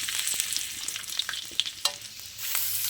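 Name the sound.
chopped ginger frying in ghee and oil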